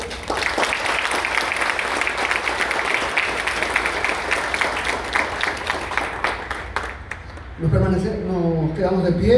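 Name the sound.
audience applause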